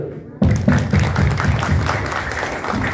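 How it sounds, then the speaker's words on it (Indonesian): An indoor audience at a Maulid Nabi Muhammad commemoration with a motivational speaker breaks into sudden, dense applause that fills the room and stays steady for several seconds, with crowd voices mixed in. "Yang mudah, tepuk tangan dulu."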